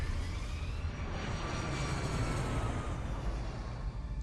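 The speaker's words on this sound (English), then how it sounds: "Cactus 1549, runway 4, clear for takeoff." Steady, loud jet engine roar of an airliner, Cactus 1549, taking off from a runway, a dense, unbroken rumble holding constant for several seconds with no voices.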